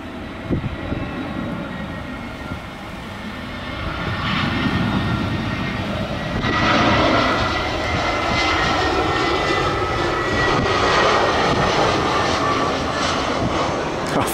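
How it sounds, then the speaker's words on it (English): An easyJet passenger jet passes overhead, its steady engine roar swelling and broadening as it comes nearer, then holding loud, with wind noise throughout and a few faint voices underneath. "just up there's a plane coming past."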